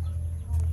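White Kelso breeding hens cluck close by in a short burst over a steady low hum, with a brief higher call near the end.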